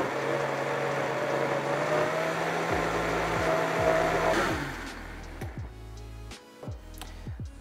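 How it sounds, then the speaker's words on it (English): A kitchen blender whirs through a vegan alfredo cream sauce, running as a loud steady motor drone and rising in pitch as the speed goes up, then winding down and stopping, leaving a few clicks and bumps. "We're going to blend this up. I'm going to start it out on low, let everything get blended together, and then turn it up to high speed."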